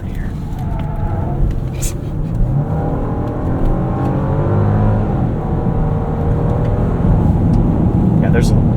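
Muted 3.5-liter twin-turbo V6 engine of a 2025 Genesis GV80 rises in pitch as it accelerates, heard from inside the cabin with a low road rumble and a person talking over it.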